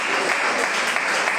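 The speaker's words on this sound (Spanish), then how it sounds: "Den un aplauso al Señor." Church congregation clapping together, a brief dense burst of applause filling the room at steady loudness.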